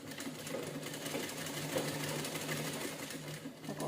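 A sewing machine runs steadily, stitching three layers of fabric together around a circular seam, its fast needle rhythm continuous and close with no talk.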